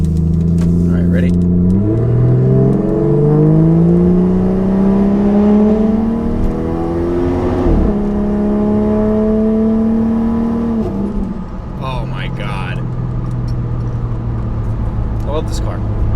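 A Honda Civic with an automatic transmission accelerates hard, its loud engine note climbing steadily, then dropping sharply at each quick gear change before rising again, close and continuous for the whole stretch, with a voice briefly heard over it.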